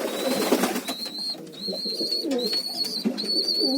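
Pigeons coo repeatedly in soft, rolling calls, several in a row, close by at feeding time with faint background noise.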